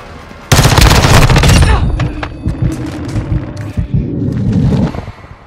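Shotgun fire in Modern Warfare II (2022) Domination gameplay: a loud close blast opens a dense burst of gunfire, then scattered thuds and shots continue under game voices and background battle noise.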